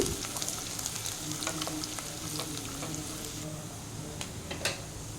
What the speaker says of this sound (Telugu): ముందుగా కట్ చేసి పెట్టుకున్న అల్లం వెల్లుల్లి ముక్కలు వేసుకోవాలి ఇవి కూడా కొద్దిగా రంగు మారే వరకు వేయించుకోవాలి